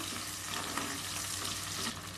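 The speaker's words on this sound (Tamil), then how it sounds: "நல்லா வதக்கி விடுங்க." Small shallots fry hard in hot oil in a pan, giving a dense, steady sizzle that stays close and loud for about two seconds, with no voices over it.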